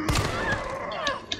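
Gunfire in the video game Resident Evil 3 Remake: a few sharp, loud shots in quick succession within a second and a half, with game sounds ringing between them.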